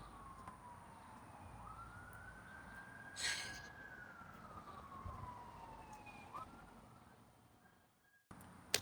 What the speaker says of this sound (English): now that the siren has passed